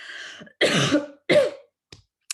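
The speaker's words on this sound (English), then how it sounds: "I might need someone to take over if I continue to cough like this" A person coughs several times in quick succession, harsh and close, followed by a couple of faint short throat sounds.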